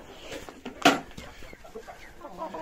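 Backyard hens clucking softly at feeding time on grain feed, with a few scattered low clucks and one louder, sharper cluck midway through a quiet scene.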